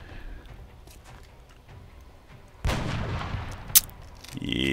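Gunfire in XCOM: Enemy Unknown: a single loud shot bursts out mid-clip and rings into a sustained blast of noise, with a sharp crack shortly after, over quiet game ambience.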